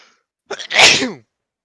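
A single close, loud human sneeze with a short sharp intake followed by an explosive burst that trails off, alone in a quiet bedroom.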